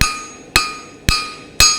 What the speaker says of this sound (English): I actually swapped to the rounded face of the hammer for this job. Make sure the anvil surface is clean and start thinning out